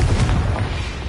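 A Confringo spell blast from the Hogwarts Legacy video game: one dense, loud, booming explosion with a deep rumble that stays heavy for just over a second, with no voices.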